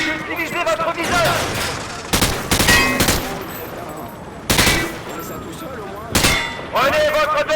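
Call of Duty: Modern Warfare 2 (2009) gunfire on Xbox One S, with repeated bursts of rapid automatic shots and metallic clangs, loud and close, mixed with game voices giving commands.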